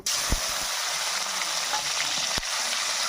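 Chopped tomato frying in hot mustard oil with whole spices, giving a steady loud sizzle throughout, with two sharp clacks of a utensil against the pan.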